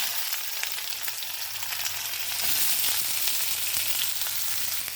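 Spices and dried red chillies frying in hot coconut oil, a dense, continuous crackling sizzle that is close and fairly loud throughout, with no voices.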